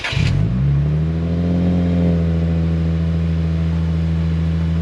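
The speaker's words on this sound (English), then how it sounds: "This is a cold start on the PTS exhaust. It's a full catback." Lexus IS250 with a PTS full catback exhaust firing up from cold, a quick starter crank and catch into a loud revving flare that settles to a steady, droning high idle, with no one speaking.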